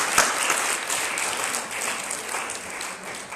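A convention audience at a customer service week event gives a steady round of applause, a dense and even wash of clapping that carries on for the whole stretch.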